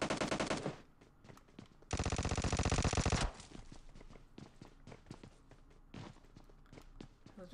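An Uzi submachine gun in PUBG Mobile, fired in two rapid full-auto bursts at close range, followed by scattered footsteps and lighter clatter.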